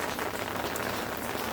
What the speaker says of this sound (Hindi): आप लोग छाते की आवाज़ सुन सकते हो